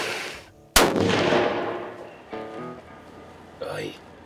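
A single loud rifle gunshot during a New York deer hunt cracks sharply and near, then rolls out in a long echoing decay, followed by brief speech.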